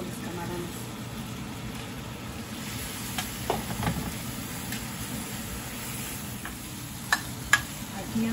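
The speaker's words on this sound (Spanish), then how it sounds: "Quedó sazonado nuestro ajo, le agregamos los camarones." Shrimp sizzle and fry in a pan of salted butter and seasoned garlic, a steady low crackle with occasional stirring clinks, while a person talks over it.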